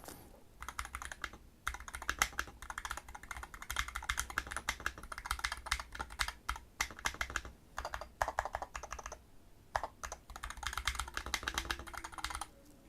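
Typing on a 60% Hall effect keyboard without a number pad, in a gaming PC setup: a steady stream of close, crisp keystroke clacks in quick irregular bursts, with brief pauses, no voices.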